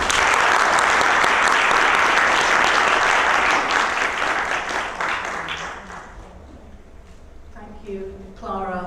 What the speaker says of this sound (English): Let's give a big warm applause as we have Professor Elaine Graham to the podium.